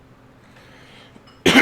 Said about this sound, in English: That's coughed in y'all's face.